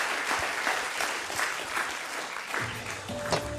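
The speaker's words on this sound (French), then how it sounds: "On peut l'applaudir." Audience applause at an awards presentation during an annual mental well-being gathering, sustained clapping that thins slightly near the end, where a faint tone and low murmur appear.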